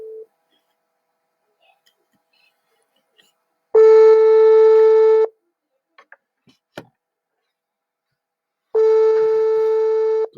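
A telephone disconnect tone sounds after a call ends: a brief beep at the start, then two long, steady, loud electronic tones, each lasting about a second and a half, separated by several seconds of near silence with faint clicks.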